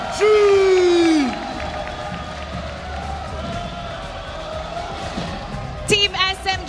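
Crowd noise from the arena audience at an esports world championship cheering Team SMG, a steady roar rising after a brief loud tone at the start, with a few sharper bursts near the end.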